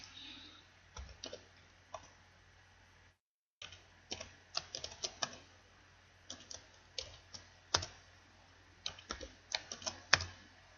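Fingers tap out irregular bursts of keystrokes on a computer keyboard, quiet and close. Clicks come in uneven clusters with a brief silent gap near the start.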